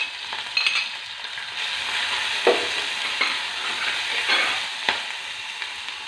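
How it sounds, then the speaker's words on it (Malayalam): Crushed garlic, ginger and shallots sizzle in a pan with fenugreek seeds, a steady close frying hiss broken by a few stirring scrapes, with no talk. "ഇനി ഇതിലേക്ക് നമ്മൾ ചതച്ച് വെച്ച വെളുത്തുള്ളി ഇഞ്ചി ചുവന്നുള്ളി"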